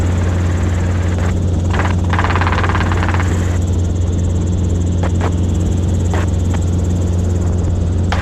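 Inside a Robinson R22 helicopter flying a traffic pattern, a loud, constant low rotor and engine hum carries throughout, with a few short crackles and clicks over it and no speech.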